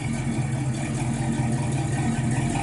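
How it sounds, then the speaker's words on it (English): A 1967 Pontiac Firebird with a numbers-matching 400 engine rumbles steadily through its exhaust, a close, low, even idle with a slight pulsing throb and no talk over it. "Tell you, it sounds real good out the exhaust."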